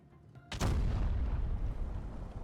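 A single loud tank cannon blast in the video game World of Tanks Blitz erupts suddenly, followed by a long rumbling boom that fills the rest of the moment.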